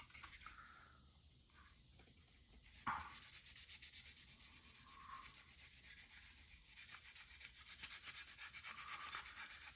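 Color sanding on the painted body of an AMT 2018 Dodge Challenger Demon model car, a steady close scratchy rubbing that turns louder and coarser partway through, with gritty strokes repeating continuously.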